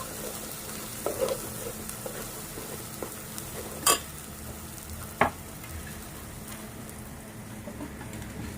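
Garlic, ginger and coriander roast in a pan for egg curry, a soft continuous sizzle under a few sharp metallic clinks of a spoon against the pan, with no voices.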